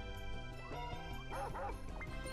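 Cartoonish dog barking from Mario Party 6, a few quick yips and bow-wows over steady game music with a droning backing tone.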